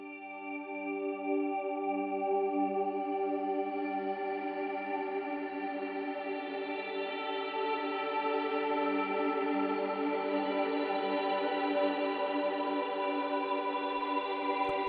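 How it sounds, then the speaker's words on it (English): Sustained, washed-out electric guitar chord swells and drones through a fully wet Quad Cortex delay and reverb preset, forming a smooth, unbroken ambient pad at moderate volume. "It is full wet, delay, and reverb, and sounds like this."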